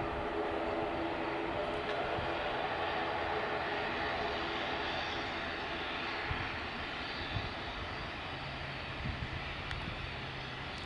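Passenger airplane taxiing on the ground before takeoff, a steady broad jet engine roar heard from a distance that holds for the whole stretch with only small bumps.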